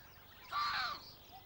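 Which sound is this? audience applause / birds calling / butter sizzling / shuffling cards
birds calling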